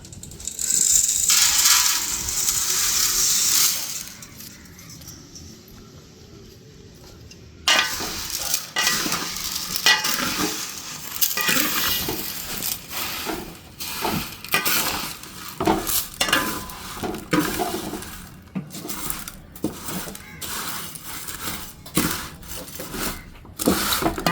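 Vermicelli tipped into a hot pan for payasam first brings a loud, hissing sizzle. Steady spatula stirring follows, with repeated scrapes, rattles and clinks against the pan as the frying continues.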